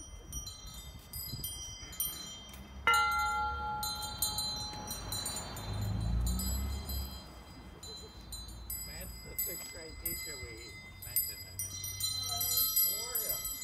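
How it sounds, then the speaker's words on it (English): Bells ringing outdoors at sunset, bright overlapping peals and chimes that ring on and off, with people talking over them and some low rumble. "Those bells are pretty."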